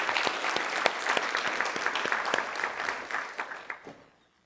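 A physiotherapy forum audience at an annual general meeting and awards event gives a round of applause, with distinct individual claps from a modest crowd that thin out and fade away near the end.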